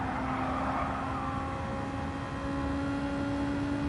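Car engine in the Gran Turismo 7 racing game, a steady sustained drone with a constant tone throughout, loud and continuous with no pauses and no talking.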